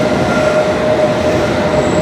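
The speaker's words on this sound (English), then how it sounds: "This is the 4th district line train we've seen go by in the time we've been waiting for a Circle Line train" A London Underground District line train passing a platform, a loud continuous rumble of wheels on rails with a sustained high squeal running through it, close and unbroken, with no talk.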